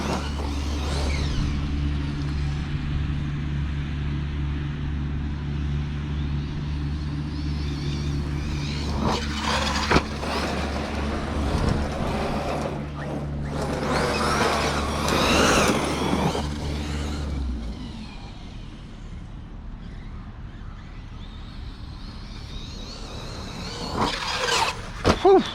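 An Arrma Fireteam RC car with a Hobbywing Max 8 motor drives across grass, giving a continuous electric motor whine with rising and falling revs and occasional bumps, close and steady throughout.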